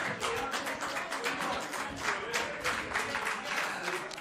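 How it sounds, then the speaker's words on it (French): Applause fills a regional council chamber as a dense, steady spatter of many hands clapping at moderate volume, with voices mixed underneath. "merci pour les applaudissements"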